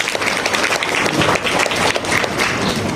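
Seminar audience breaking into steady applause, dense clapping from many hands filling the room throughout, with no speech over it.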